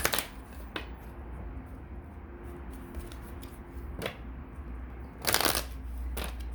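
A deck of Greek mythology reading cards is shuffled up close, with brisk riffling bursts at the start and again near the end, separated by a quieter stretch of low room noise.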